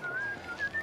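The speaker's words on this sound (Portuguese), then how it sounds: "o toque é a mesma melodia que o racista assobia atrás de Laurie também lá no autódromo." A short whistled melody from the film Final Destination 4, a few thin, clear notes whistled softly over a low murmuring background.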